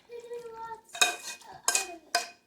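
Shepherd's pie mixture being smoothed into a large casserole dish, with a few distinct scraping strokes of a utensil against the dish, close and moderately loud, with no talking.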